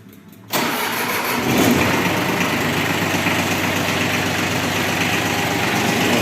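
A small Iseki TU125 Japanese mini tractor engine cranks and starts abruptly, then settles into a steady, close, rumbling idle that continues evenly.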